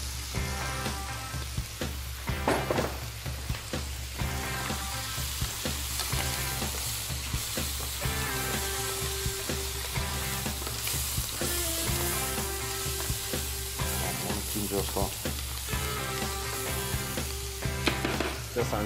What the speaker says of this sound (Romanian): Adăugăm orezul direct peste legume și fructele de mare, pentru că vrem să-l tragem un pic la tigaie cu restul